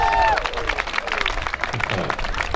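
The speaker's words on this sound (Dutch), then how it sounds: "Applaus voor de Jazz Dance." Short burst of applause at an outdoor village festival after a jazz dance performance, dense clapping from a crowd with voices mixed in, fairly close and fading slightly toward the end.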